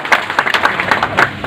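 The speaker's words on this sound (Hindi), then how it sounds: "एक बार जोरदार ताली बजाकर हम सब स्वागत करें" A crowd at a political party gathering claps in welcome for a leader, a brief burst of uneven, overlapping claps at moderate loudness.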